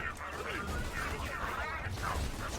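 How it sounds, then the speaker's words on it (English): Gunfire from the Borderlands 2 video game, with rapid shots and game effects clattering over a busy mix of in-game sound and a voice, steady and fairly loud for the whole moment. "I'm hearing more gunfire than usual"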